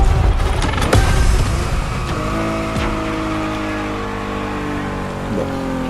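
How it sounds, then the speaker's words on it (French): A W Motors Fenrir Super Sport, a Dubai-built hypercar, drives in the racing game The Crew Motorfest. Its engine roars loudly and climbs in pitch through rising gear sweeps, with a brief tire squeal near the start. "Lucky Star pilote maintenant cette Fenrir Super Sport de W Motors basée à Dubaï"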